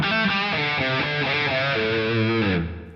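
Electric guitar played through a Line 6 Helix boost mode, a short melodic phrase of distinct picked notes with a thick, driven edge, loud and upfront before the last note cuts off.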